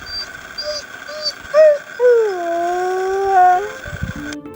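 Sled dogs howling in a snowy dog-sledding yard, a close, drawn-out chorus of rising and falling howls with a few short yips at the start.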